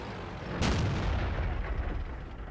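A Type 61 tank cannon fires in World of Tanks, one sharp, loud boom followed by a long rumbling decay, set against steady battlefield background noise.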